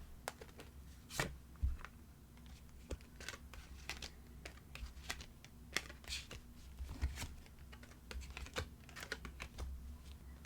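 Tarot cards are shuffled and gathered by hand for a reading, with soft repeated rustling and crisp card flicks, faint and close, with no speech.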